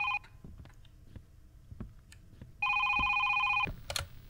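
A telephone in the horror game Is Simon There? rings in two loud, steady electronic bursts, a short one at the start and a longer one later, with faint clicks and thuds between.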